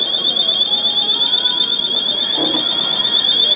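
A store security alarm blares with a steady, piercing electronic tone that holds unbroken throughout, with faint muffled background activity beneath it.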